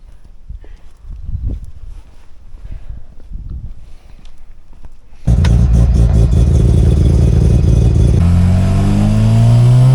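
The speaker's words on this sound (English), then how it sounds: "So we'll go play with the boost, and then I can start drifting." A turbocharged drift car, set up for D1 Lights, sits at a low idle with soft thumps before its engine abruptly bursts into a loud, close roar that climbs in pitch as it revs near the end.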